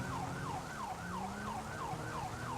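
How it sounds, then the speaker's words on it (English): Police car siren in GTA V, a steady wailing sweep rising and falling about every half second, loud and continuous over a low engine rumble with no talk. "Listen to the sirens, see the lights, get out of the way"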